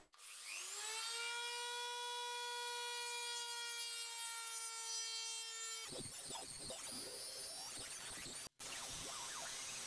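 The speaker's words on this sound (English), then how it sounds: "And we do this with the mini drill." A high-pitched mini drill whines steadily at full speed, then shifts into a rough, scratchy grinding as it bites into the broken tip of a metal knife, close and loud.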